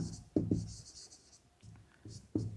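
Chalk writing a maths equation on a board in a class 10 lesson, short scratchy strokes and taps in a few separate bursts, close and fairly clear, with no speech over it.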